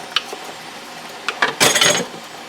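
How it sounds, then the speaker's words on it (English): Cut green and yellow beans tumbling into a glass canning jar, a few light clinks and rattles with a short, louder burst of clattering near the end, close and alone. "I'm going to fill my jar with washed and cut up green and yellow beans"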